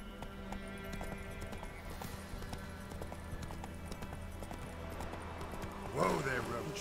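Hooves of the horse Roach clip-clopping in steady rhythm in the video game The Witcher 3, soft under game ambience, with a brief whinny-like burst near the end.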